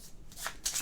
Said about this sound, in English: let me just shuffle these up for the next patrol that is coming